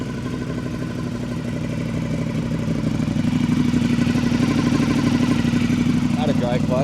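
A 2025 Ducati Panigale V4S with a full Akrapovic exhaust idles with a deep, steady rumble that swells louder partway through and stays strong and close. A voice briefly cuts in near the end.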